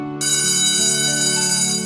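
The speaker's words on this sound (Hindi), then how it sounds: "लो, घंटी भी बज गई," A school bell rings in one continuous, loud electric tone that starts abruptly and holds steady to the end, with no voices over it.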